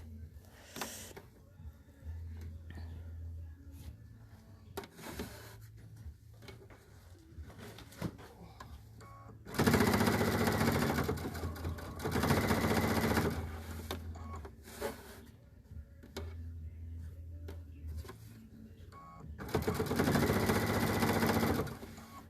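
A sewing machine fitted with a 1/4 inch foot stitches a placemat strip in several loud, fast whirring bursts separated by quiet pauses where the fabric is handled.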